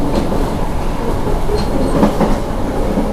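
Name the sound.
Argo Merbabu passenger train running on rails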